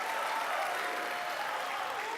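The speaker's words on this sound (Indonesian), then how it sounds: "terima kasih tepuk tangannya." Applause from the studio audience at a 2014 Indonesian presidential debate, a fairly quiet, even patter of many hands clapping that continues steadily throughout.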